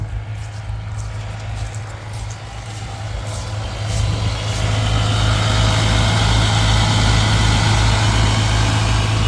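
An old Ford Ranger with a 2.3 gas engine idles after a cold start, a steady low rumble up close whose pulsing grows louder and more even partway through, with no talking.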